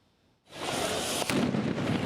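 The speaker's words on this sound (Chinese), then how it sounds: "爆炸声一直响起，抗议现场一直出现火粉甲火光。" During a street protest in Athens, Greece, a loud blast erupts after a quiet moment and rolls into a sustained, rumbling roar with a sharp crack partway through.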